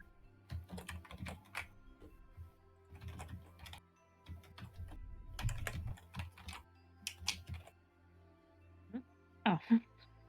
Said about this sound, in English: Like, I hear typing.